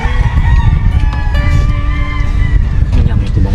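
Chickens clucking with a rooster crowing nearby at a rural mountain farm, loud and continuous with harmonic calls layered over a busy background, and people talking in the clip.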